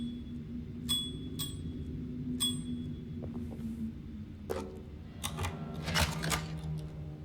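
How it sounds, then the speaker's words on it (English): Bell strikes in the survival horror game Alone in the Dark ring out as a few sharp, bright tones with ringing tails over a low steady hum, followed by a cluster of clattering hits. "Bell."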